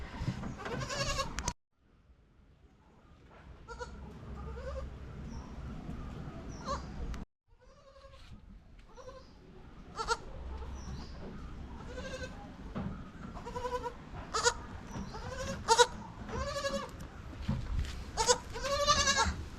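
Baby goats bleat over and over, near and fairly loud, their cries growing busier and more frequent toward the end, with a brief silent break early on.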